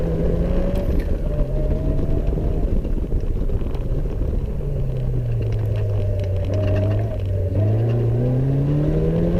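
An onboard racing car at the Rushmoor sprint runs through a lap. The engine drones loudly and continuously, with its pitch rising and falling under acceleration and braking, while wind rushes past the microphone.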